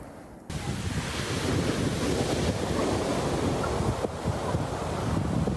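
Sea waves washing continuously onto a polluted, litter-strewn shore, a steady broadband roar with heavy wind buffeting the microphone after a brief quiet start.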